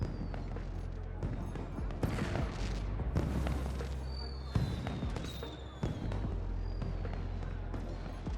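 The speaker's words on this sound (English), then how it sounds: "I always say, judge a society on its fireworks party." Fireworks pop and crackle at a party in the Beyond a Steel Sky video game, with several sharp bursts and whistling streaks over a low rumble while voices talk.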